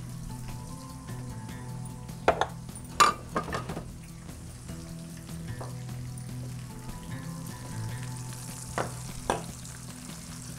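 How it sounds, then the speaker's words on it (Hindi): Fish fries in a pan for fish and chips, a steady close sizzle with occasional clinks of utensils against the pan; no talking. "जितनी स्पेस थी उतनी मैंने जो है इसके अंदर फ़िश डाल दी है फ्राई के लिए"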